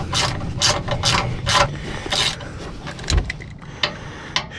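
A Snap-on ratchet wrench turns a bolt on a 2009 Crown Victoria P71 while an AC accumulator is being replaced, giving loud, rapid bursts of clicking in several quick strokes, followed by a pause and a few scattered clicks.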